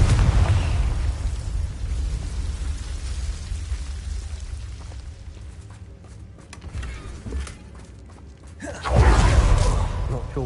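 A Confringo spell explosion in a video game, a loud rumbling burst near the end that breaks through a low, crackly background hum.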